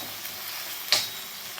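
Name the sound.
stirring turmeric into sizzling fried onion and tomato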